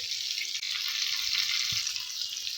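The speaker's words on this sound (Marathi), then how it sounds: "कधी मासे भाजताना तेल हे चांगलं गरम झालेलं पाहिजे याच पद्धतीने आपण हे मासे देखील पलटी करून घेऊ" Bangda mackerel coated in rava and masala frying in hot oil, flipped in the pan: a steady, close, dense hiss of sizzling with no talk over it, and one soft knock near the middle.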